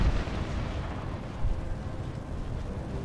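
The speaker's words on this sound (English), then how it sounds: "Oh wow, artillery." Artillery fire in the Napoleon: Total War battle game, a dull continuous rumble of distant cannon with a low thump near the start and another around midway, no voices.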